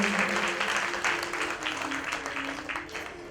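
A crowd at a Bhagwat Katha gathering gives a warm round of applause to welcome a guest, steady, dense clapping with a faint voice underneath.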